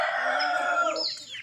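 A Rhode Island Red rooster on a free-range area gives one loud, close crow that rises and then trails off into a short, wavering tail.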